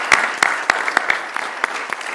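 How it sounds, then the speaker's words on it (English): Sparse, scattered clapping from a handful of people in a university board of trustees meeting, individual claps distinct and uneven, fairly close, with a little background murmur. "just maybe a recommendation of a round of applause"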